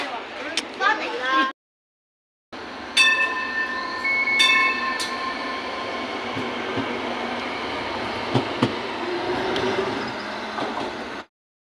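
A light rail train in Tuen Mun, Hong Kong rumbles loudly along the track with squealing wheels and chiming tones, briefly cut out near the start, while people chatter nearby.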